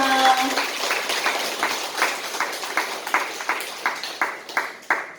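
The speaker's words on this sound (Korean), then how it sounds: "그 마음을 담아서 큰 박수 한번 보내드립니다." An audience at a Buddhist temple claps for new members in steady, moderately loud applause that settles into a rhythmic beat of sharp claps, heard from a slight distance.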